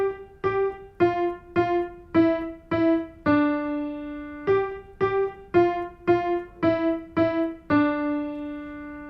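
Bars five to eight of a beginner's first piano song are played as single clear notes in an even rhythm, with short repeated notes grouped between two held half notes, then the pattern repeats with no talking.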